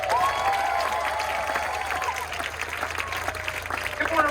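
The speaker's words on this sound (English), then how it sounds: "give Curtis another round of applause." Audience applause at a marching band tailgate, steady clapping and crowd noise throughout, with whistle-like tones and some voices mixed in.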